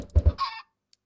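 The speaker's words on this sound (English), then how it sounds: "now we got a pet chicken." A Minecraft chicken gives two quick low clucks and then a short, breathy squawk. It sounds close and alone, and silence follows.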